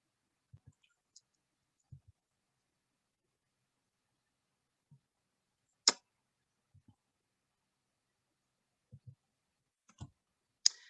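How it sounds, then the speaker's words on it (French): Computer mouse clicks while working in MySewnet embroidery software, sparse single and double clicks scattered across the span, close and crisp against silence. "Pour désélectionner, on clique sur la page."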